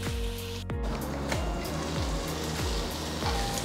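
Chopped tomatoes fry in an oiled pan for black chicken (Kadaknath) pulav, a soft continuous sizzle with faint crackles and a few low clunks of stirring against the pan.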